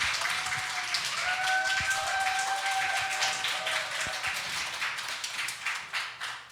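Audience clapping welcomes a professor arriving to give a Korean creation-science seminar lecture on genes and created order in Busan, a steady crowd patter with faint tonal tones threading through and tapering slightly toward the end.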